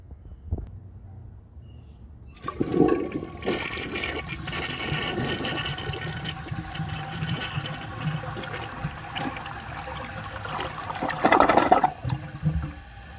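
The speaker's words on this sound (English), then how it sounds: "let's give this a flush and see how it does." A 1981 Briggs Conserver concealed-jet toilet flushes close by: a sudden rushing gush of water that settles into a steady swirling drain and refill, with a brief surge of gurgling near the end of the flush.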